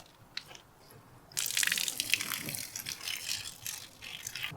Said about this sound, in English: Let's see what happens when I put a little water through there.